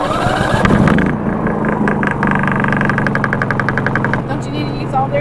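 A propane-powered generator set up for an RV runs steadily close by, a continuous mid-pitched engine drone with a faint rhythmic knock, while voices talk over it.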